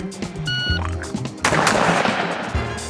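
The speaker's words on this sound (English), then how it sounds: "to see how well this gun shoots" A Winchester 101 12-gauge over-under shotgun fires a pair of loud blasts in quick succession, a booming report followed by a longer rumbling echo, with a timer beep and outdoor range noise around it.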